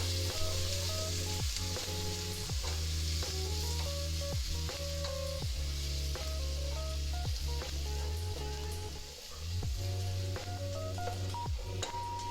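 Aromatics simmering gently in oil on a low saute setting for a Japanese dish, a steady soft sizzle running throughout, with a few faint clicks and tonal beeps over it.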